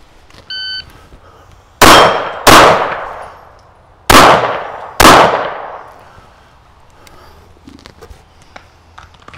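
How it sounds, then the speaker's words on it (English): A shot-timer beep starts a handgun qualification drill, followed by four loud, closely spaced pistol shots at steel targets, each trailing a ringing echo. "We have 6 seconds to do 2 shots on each target."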